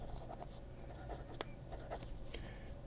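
A Mnemosyne fountain pen with a number 6 stub nib writes on paper with soft, close scratchy strokes and small ticks, fairly quiet and continuous, with no talking.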